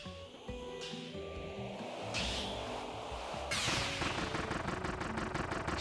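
Rapid laser gun shots fired in the Kirby and the Forgotten Land video game, bursts of buzzy zapping blasts that change character as different shot types are tried, with game music underneath.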